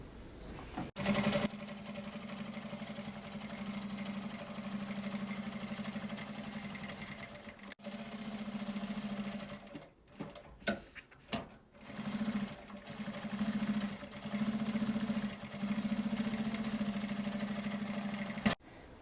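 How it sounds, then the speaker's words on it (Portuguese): Sewing machine topstitching along the edge and side of a double-faced, stabilized toiletry bag, running in steady bursts with brief pauses and restarts, close and fairly loud, with no talking. "Vamos agora passar uma costurinha de pesponto aqui na bordinha e aqui na lateral."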